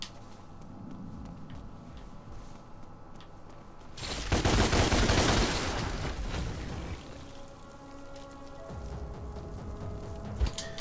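Rapid gunfire in DmC: Devil May Cry blasts at spider enemies, a dense loud burst lasting a few seconds amid steady game ambience, with a few scattered shots afterward.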